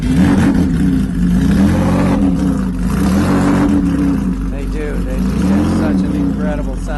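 A purpose-built endurance race car engine, built for 1,000-kilometer and 24-hour races, runs loud and close with rising and falling revs, while people talk over it.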